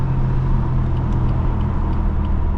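A tuned BMW F82 M4 engine drones steadily from inside the cabin, a constant low rumble with road noise and no talking.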